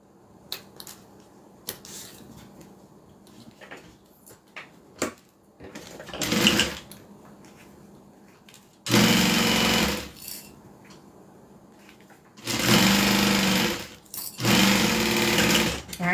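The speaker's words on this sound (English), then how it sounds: "then open that up and do a top stitch. It's a Juki 1181." A Juki 1181 sewing machine top-stitches fabric in loud, steady bursts of whirring, alternating with quieter handling sounds and pauses between runs.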